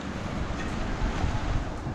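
Sea waves rolling onto the coast in South Korea, a continuous low rumble of surf mixed with gusty wind buffeting the microphone, no voices.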